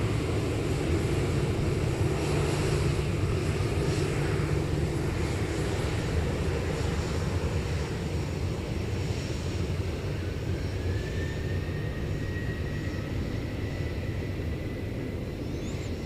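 A Boeing 747 airliner departs from Seoul airport, a loud, continuous broadband engine roar that holds steady throughout, with a faint rising whine partway through.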